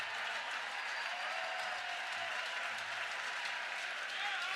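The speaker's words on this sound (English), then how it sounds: "Listen to the crowd." A softball crowd at a college game between Sam Houston and Oklahoma applauds a play, steady distant clapping and cheering sustained throughout at moderate volume.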